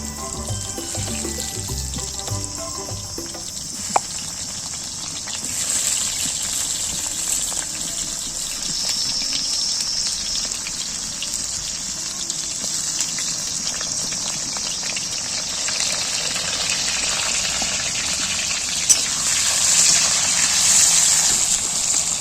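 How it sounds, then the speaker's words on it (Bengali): Chandramukhi potato pieces fry in hot oil in a pan, giving a constant loud hissing sizzle that runs unbroken for over twenty seconds, with a few faint clicks. "পটলগুলো প্রথমে দিলে তেলটা কালো হয়ে যাবে, তাই আলুগুলো আগে ভেজে নিচ্ছি, লাল লাল করে ভেজে নেব"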